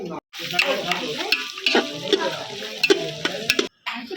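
Chopped green chillies tossed into a hot pan for misal, cooked over a wood-fired stove, crackling and sizzling up close with scattered clinks of a spoon and short pauses in the sound.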